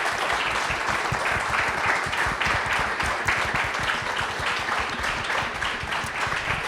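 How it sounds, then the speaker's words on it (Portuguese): An audience at a Nosferatu centenary film event applauds after a panel, a dense, steady wash of many hands clapping loudly and continuously throughout. "Uma grande salva de palmas, por favor."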